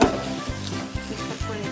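Rice frying with ilish polau ingredients in a pan and being stirred: steady close sizzle with a few soft scraping strokes of the spoon at regular intervals, no voices.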